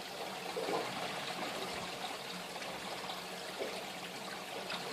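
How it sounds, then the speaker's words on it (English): Water trickles over the weir of a reef aquarium overflow box set at a high level, a faint, continuous soft splashing and burbling with slight swells in level. "I'm running this overflow box at a high level so that the trickling noise over the weir is kept to a minimum."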